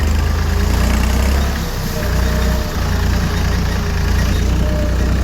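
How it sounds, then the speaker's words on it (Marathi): A tractor engine runs steadily in a field just after sowing, a constant low rumbling drone with a brief dip in level midway, no voices over it. "ट्रॅक्टर बाहेर काढला आणि लगेच चाललो"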